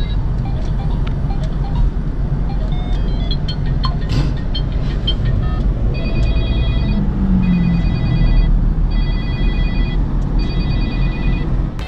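A mobile phone rings with an incoming call inside a moving convertible car, its ringtone repeating in regular bursts during the second half over the steady road and engine noise.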